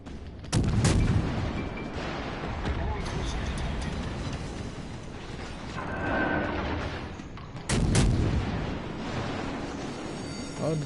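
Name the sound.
naval gunfire and explosions in World of Warships Legends video game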